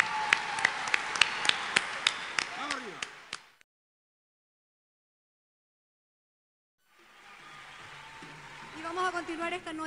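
Applause for award winner Felipe Camiroaga at the Copihue de Oro 2011 ceremony: sharp claps and taps fading out, a few seconds of silence, then a crowd noise swelling back.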